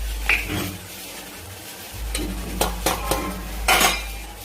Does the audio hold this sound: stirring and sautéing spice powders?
yes